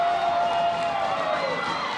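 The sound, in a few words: softball game crowd cheering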